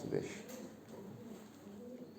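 A few pigeons coo low and soft, one brief coo standing out early, amid a bird keeper's flock kept for sale around Samsun, with someone talking over them throughout.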